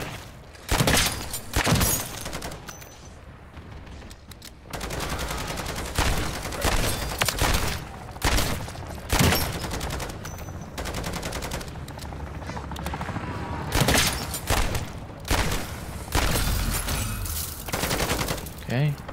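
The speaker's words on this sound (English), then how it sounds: "Sentry gun's still doing good." In Call of Duty MWZ, a sentry gun fires rapid automatic bursts, loud and close, in repeated volleys mixed with other gunfire and game action.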